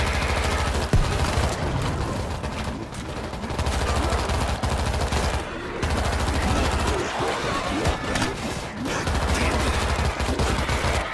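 Gunfire in the zombie shooter World War Z, dense overlapping automatic bursts and shots layered with game effects and music, sustained and loud throughout, with a short lull near the middle.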